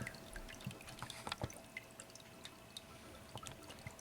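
Distilled coolant trickles out of a computer's liquid-cooling loop, with an EVGA GTX 980 HydroCopper in it, into a bucket below: a continuous close dribble broken by uneven drips and light splashes.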